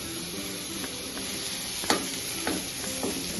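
Fish and greens sizzle and spit steadily in a hot pan for a traditional Assamese dish, with a few sharp pops and scraping stirs over the constant close frying hiss.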